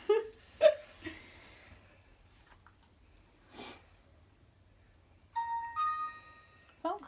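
A phone ringing inside an old house during a night visit, a short electronic tone sequence near the end after a few faint sniffs and breaths, otherwise quiet.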